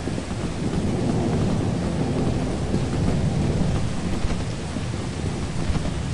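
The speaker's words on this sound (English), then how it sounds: "Can we die from a lightning storm?" A thunderstorm in the video game Lethal Company, with heavy rain and rolling thunder filling the scene in a loud, dense, steady roar that never lets up.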